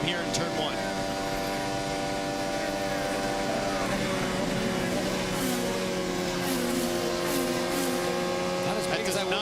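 The onboard engine of Scott Dixon's number 9 PNC IndyCar drones steadily at high revs through a lap at an oval race, a continuous buzzing whine with shifting pitch and a voice talking over it.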